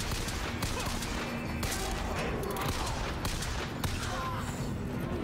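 Pistol shots in the video game BioShock Infinite, several sharp cracks scattered over a busy, steady bed of game sound.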